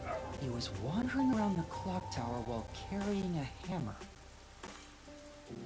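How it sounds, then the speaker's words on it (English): A dog barks and yips repeatedly indoors, several short whiny barks in bursts, with a person talking over and between them and faint rain in the background. "This dog needs to be quiet."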